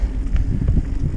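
Gusty wind buffets the microphone on a flat bike trail at Monte Sano State Park, a low rumbling roar throughout a short moment with no voices.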